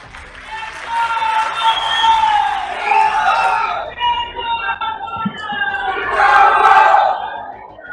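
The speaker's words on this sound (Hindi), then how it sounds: "आप बहुत तालियां बजा रहे थे" At a political rally, a crowd cheers and claps in swelling waves while a voice carries over them, the noise rising and falling over several seconds.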